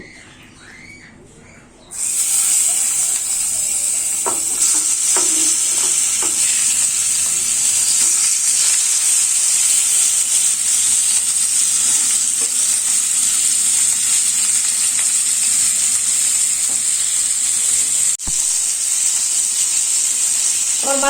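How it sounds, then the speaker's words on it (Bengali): Rohu fish frying in hot oil in a home kitchen pan, a steady loud sizzle starting after a quieter opening and holding evenly throughout, with a few faint clinks of utensils. "এখন আমি এই তেলের মধ্যে মাছটা ভেজে নিব।"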